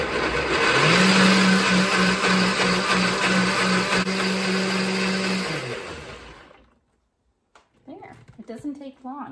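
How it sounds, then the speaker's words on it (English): A KitchenAid blender purees a carrot, garlic and turmeric salad dressing, a loud steady motor whir for about six seconds that stops abruptly, followed by a short pause and then a person talking. "And then I'm going to puree this."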